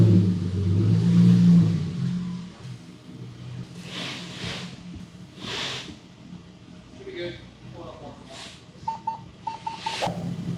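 A 2023 Ford Raptor truck with a 3.5L EcoBoost engine rumbles as it creeps onto a dyno, a loud low engine drone at first that fades into quieter idling and shop clatter while people talk.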